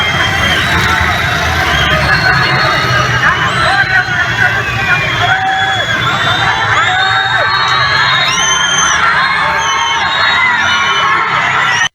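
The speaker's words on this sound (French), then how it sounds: "Des cris de victoire ont retenti à Bouzatouf." A large crowd of protesters in Madagascar shouts and cheers in victory outdoors, a dense, loud sustained roar of voices with whoops and high cries, children among them, and the occasional vehicle in the background.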